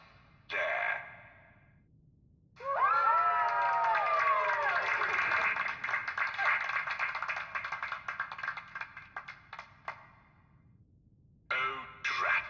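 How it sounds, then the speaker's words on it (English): Applause command from the video game Fallout: London, set in the British Museum: a swelling burst of crowd clapping and cheering that holds steady for several seconds, then thins into scattered claps before a short final flourish. "I actually pressed the applause button instead of the trap button"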